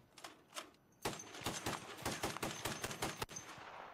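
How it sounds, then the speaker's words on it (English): Browning .50 caliber machine guns on a WWII fighter firing all six at once, heard as a rapid run of sharp, loud bursts after a short pause, with a couple of isolated shots before. "firing all 6 guns at the same time"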